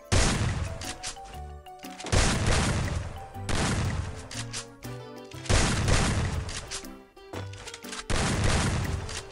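Shotgun shots fired in a mobile shooter video game, one loud blast roughly every two seconds in a steady rhythm, with short musical tones ringing between the shots.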